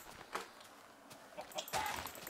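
Chickens clucking in Minecraft, a few short faint clucks scattered over about two seconds with a slightly louder burst near the end, no talking.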